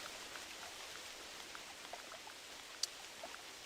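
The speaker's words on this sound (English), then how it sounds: "it's raining again." Rain in the video game theHunter Classic: soft, steady rainfall patters continuously at low volume, with a few brief drips standing out.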